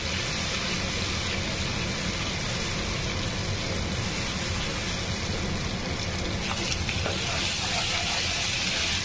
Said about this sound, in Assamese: মছলাটো অকণ ভাজি ল'ম মই।